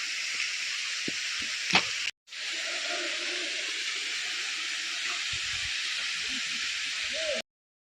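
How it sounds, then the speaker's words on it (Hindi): Waterfall at Cham Cham village in Meghalaya, a steady broadband roar with hiss, close and continuous, with one brief dropout partway through and a few faint bumps underneath. "हमें नहीं आइडिया था कि वाटरफॉल का ये आवाज़ है"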